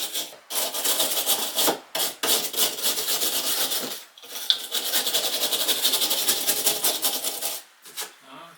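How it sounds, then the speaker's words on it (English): Rasping, rhythmic scrubbing on the threads of a bathtub spout pipe, close and fairly loud, in repeated strokes broken by short pauses. "what I'm going to do is just clean up this pipe here"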